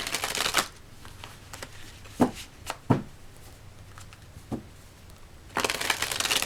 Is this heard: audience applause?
no